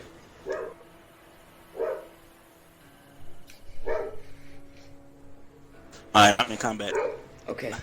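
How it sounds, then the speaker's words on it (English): A dog in the room barks in short separate bursts, about four sharp yips a second or two apart, fairly close, while someone talks over a video game. "If you guys just excuse my dog,"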